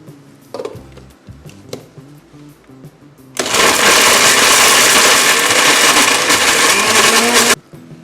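A few light clunks and clatter, then a kitchen blender grinding pirandai chutney starts and grinds loudly and steadily for several seconds before cutting off abruptly.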